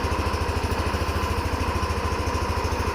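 A Yamaha NMAX Neo S scooter engine runs steadily nearby, giving an even, throbbing idle pulse with a rough mechanical texture and no voices.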